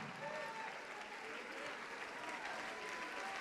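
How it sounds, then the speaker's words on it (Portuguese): Church congregation applauding during a Portuguese-language service, a dense, even wash of clapping from a large crowd, sustained and somewhat distant throughout. "Vamos aplaudir, igreja."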